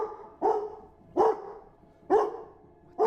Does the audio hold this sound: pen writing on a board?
no